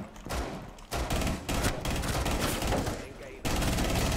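Ela's elite weapon firing in Rainbow Six Siege, dense rapid automatic bursts, loud and close, broken by short pauses, with a voice talking over parts of it.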